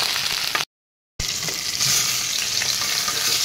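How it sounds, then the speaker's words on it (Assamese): Fish pieces fry in hot oil in a pan over a high gas flame, giving a loud, dense, continuous sizzle that cuts out briefly for a moment before resuming just as strongly. "এয়া মাছখিনি ফ্ৰাই হৈ গ'ল"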